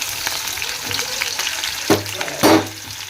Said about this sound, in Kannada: ಒಂದು ಸ್ವಲ್ಪ ಎಣ್ಣೆ ಹಾಕಿ ಸ್ವಲ್ಪ ಫ್ರೈ ಆಗಬೇಕು ಈಗ ಉಳ್ಳಾಗಡ್ಡಿ ಹಾಕೊಳ್ಳೋಣ